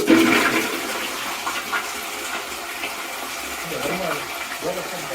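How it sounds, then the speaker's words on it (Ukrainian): A rimless toilet flushed with the big flush button and fitted with a flow limiter, heard up close as a loud, steady rush of water that fades slightly, with faint voice sounds near the end. "Встановили обмежувач, натискаємо велику кнопку зливу."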